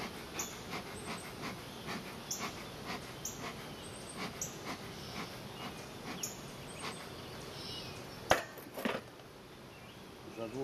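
Agitated bees swarm around an opened beehive during a hive inspection, a dense continuous buzz close to the listener with sharp passes and a few bumps, and no talking.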